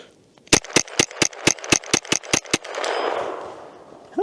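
A Derya TM22 .22 long rifle dumps a 10-round magazine in quick succession: ten sharp, loud, evenly spaced cracks in about two seconds, followed by a fading rumble of echo.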